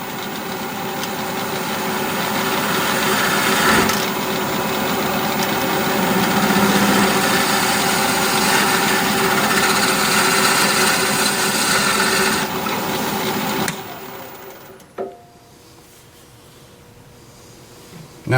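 A wood lathe spins at about 900 RPM, giving a steady droning whir with a constant hum for most of the stretch, then it winds down and quiets near the end.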